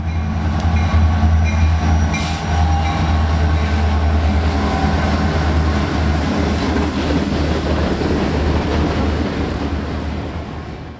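A Via Rail passenger train on the Toronto-to-Vancouver route rumbles along CN Rail tracks with a steady low roar and rattling, heard from inside, continuous and fairly loud throughout.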